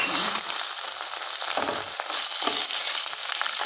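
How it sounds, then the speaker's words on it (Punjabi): Puffed fox nuts (phool makhana) roasting lightly in a pan on medium-low gas, right after cashews were fried in it, giving a steady close sizzle with scattered crackles and stirring scrapes. "ਇੱਕ ਕੱਪ ਆਪਾਂ ਫੁੱਲ ਮਖਾਣਾ ਆ ਇਹਨਾਂ ਨੂੰ ਵੀ ਥੋੜਾ ਜਿਹਾ ਹਲਕਾ ਜਿਹਾ ਰੋਸਟ ਕਰ"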